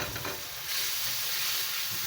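Thick chili paste for sambal bubbles and sizzles steadily in a hot pan, a close, continuous crackling hiss with soft popping underneath.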